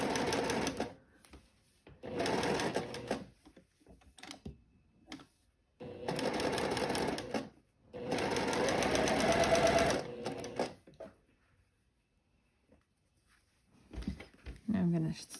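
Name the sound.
sewing machine stitching waistband ruffle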